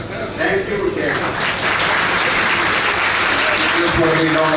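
Audience applause at a Delhi High Court Bar Association farewell for a retiring judge, a dense sustained clapping from a large room that swells after the first second and continues steadily, with a voice starting to speak faintly near the end.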